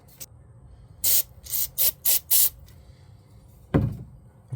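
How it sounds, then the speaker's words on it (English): Several short bursts of aerosol carburetor cleaner hiss in quick succession, fairly close, sprayed while cleaning a lawnmower carburetor, followed by a single louder spray blast after a pause. "then go through some carb cleaner, spray it out"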